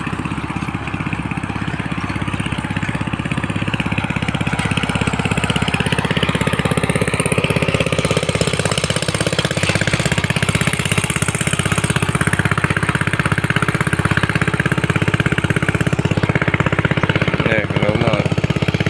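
A Farmtrac 65 EPI tractor pulls an 18-disc harrow through a field, its engine thrumming loudly and steadily close by with a constant rhythmic chug, as someone talks over it.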